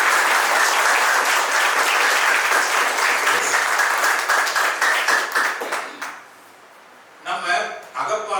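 An audience applauds a motivational speech, loud sustained clapping that fades out before a short second round of claps, with the speaker's voice coming in over the end.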